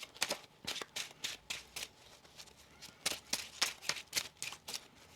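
Tarot cards riffled and shuffled in a rapid series of crisp, papery bursts, close up, with brief pauses between flurries; no talking.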